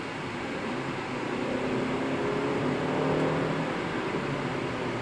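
A 2017 Suzuki Swift Strong Hybrid with a 5AGS gearbox accelerating, heard from inside the cabin as a steady engine and road drone that swells gradually, with no talking.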